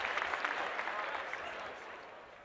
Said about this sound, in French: vous applaudissez trop